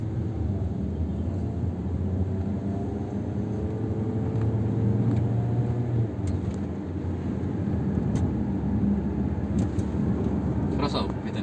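Kia Sportage fitted with a Blackcore module, its engine humming and rising in revs from inside the cabin, a steady low rumble that climbs in pitch midway, with occasional faint clicks and no talk.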